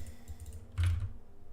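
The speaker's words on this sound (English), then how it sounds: "The keyboard is a little bit too loud, but it's manageable." Computer keyboard typing during a programming session, heard as faint soft clicks over a steady low hum, with one louder burst of keystrokes in the middle.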